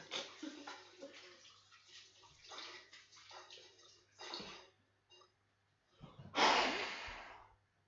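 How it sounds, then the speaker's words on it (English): Hands briefly rinsed under a running tap in a home kitchen while baking jam tarts, a close burst of splashing water near the end after quieter rustling and breathing sounds. "I'm going to quickly give my hands a rinse."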